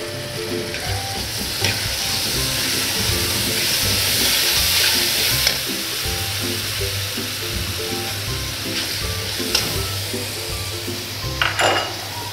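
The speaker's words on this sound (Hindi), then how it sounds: "और इसको हल्का सा फ्राई कर लें।" Spices and chopped tomatoes sizzle steadily in a hot pan for chana pulao, a loud continuous crackling hiss with occasional clinks of a spoon against the pan, close up and without talk.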